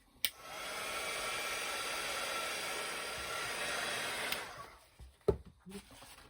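A hair dryer runs steadily for about four seconds, drying mixed media collage cards, then clicks off, leaving a few quiet handling knocks.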